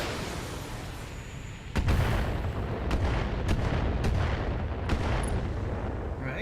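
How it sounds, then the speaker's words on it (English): A BattleTech mech fires Inferno weapons at a target in a series of heavy, booming shots spaced a second or so apart over a rumbling battlefield bed. "let's go ahead and hit it with Inferno and go for a headshot. Firing on target"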